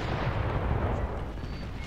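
Cannon fire from the Empire: Total War strategy game booms in heavy, rumbling blasts that fade into a rolling, low echo.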